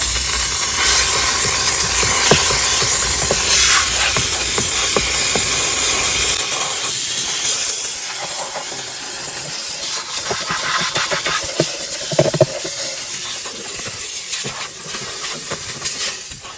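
A VX5000 steamer hisses continuously during car detailing, a loud, close, broadband rush of steam that runs the whole length, thinning slightly midway as brush scrubbing and small clicks come through.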